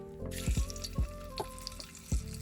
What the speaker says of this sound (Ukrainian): Відправляємо сало і натоплюємо жирок.